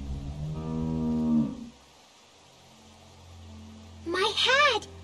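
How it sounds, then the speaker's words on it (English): A cow in The Walking Dead video game lets out one long, deep moo at close range, followed by a quiet stretch and then a short, higher vocal burst. "How do you like that cow, Clint?"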